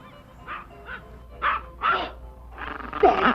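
A dog barks several times in short separated bursts, fairly close, with quieter yelps at first and louder ones toward the end, no talking.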